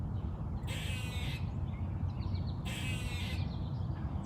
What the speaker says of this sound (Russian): Мы когда первый раз услышали, как белки кричат